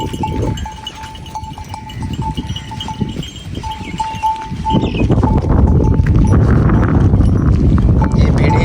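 Sheep grazing on fodder in a desert village in Pakistan, with livestock sounds, possible bell clinks and shuffling under a steady outdoor noise bed that grows louder midway, while a voice speaks throughout.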